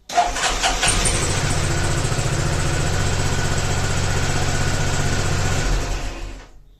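A Peugeot Metropolis 400 RS scooter engine catches and runs at a steady, loud, close idle for several seconds before cutting off abruptly.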